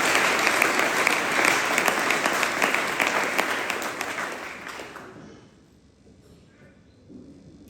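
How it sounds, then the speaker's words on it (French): Loud, dense applause from a church congregation in a tabernacle fills the first five seconds, then fades out, leaving a quiet room with faint murmurs. "Est-ce que nous pouvons applaudir très fort pour le Seigneur?"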